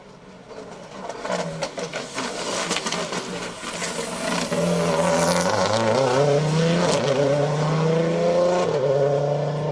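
A Ford Mark II Escort rally car with a 2.5 litre engine and quick-shift gearbox runs along a seafront road on a rally stage, its engine revving and popping as it swells from moderate to loud and holds near.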